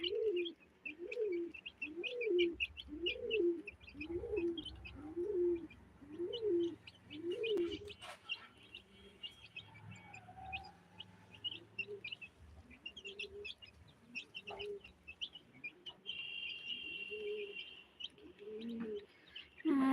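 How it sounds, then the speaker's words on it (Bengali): Young chicks eating feed make a steady run of soft, rhythmic peeping calls at close range, fading into scattered quieter chirps, with no talking. "এই যে দেখেন আমার মুরগির বাচ্চাগুলো খাবার খাচ্ছে"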